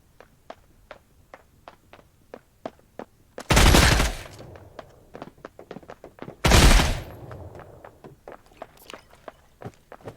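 In the mobile shooter Badlanders, a gun lets off two loud, sharp bursts of fire a few seconds apart, set against a steady patter of light footstep-like ticks.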